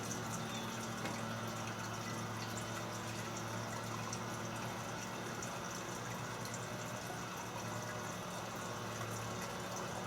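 Hydrautomat self-powered water pump filling with water, a steady, dense gurgling and rushing of flowing water with a low mechanical hum, continuous and close, with no talking.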